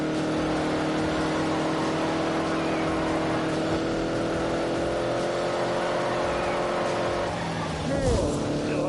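A car engine held at full throttle, a steady loud drone with sustained harmonic tones that shift near the end as the revs change, with a voice talking over it.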